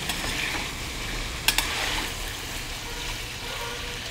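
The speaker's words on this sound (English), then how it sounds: "Let the pieces get nicely roasted in the ghee." Chicken pieces fry in ghee in a pan over medium-high flame, a continuous soft sizzle with a couple of sharp utensil clinks against the pan.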